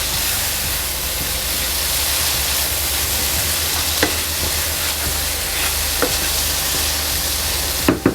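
Soya meat frying with curry leaves and chilies in a pan sizzles and hisses loudly and continuously, with a few scraping stirs of a spoon against the pan.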